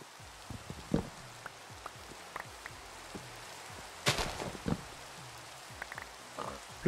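Rain falls in the video game Minecraft as a steady, moderate patter, broken by several sharper, louder crackling bursts, with no voices heard.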